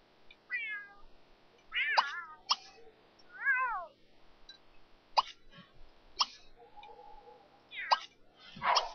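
A cat in the game The Sims 3 meows repeatedly, with about half a dozen short, separate calls spread over several seconds. Soft clicks and plops fall between them against a quiet background.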